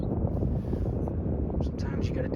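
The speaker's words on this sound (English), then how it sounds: "It's kind of windy." Steady outdoor wind buffets the microphone during an on-site repair job, a continuous low roar filling the whole stretch without letup.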